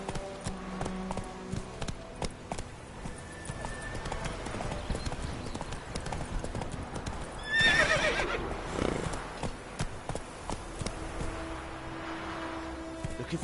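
Roach, a horse in The Witcher 3, gallops with rapid rhythmic hoofbeats and lets out a loud neigh partway through. A voice speaks briefly over the hooves.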